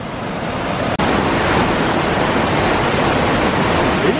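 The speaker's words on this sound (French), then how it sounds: "Vous avez des chutes derrière." Waterfall at a cave entrance in the Okutama gorges, Japan, a steady loud broadband roar of falling water close by, continuous throughout with one brief dip near the start.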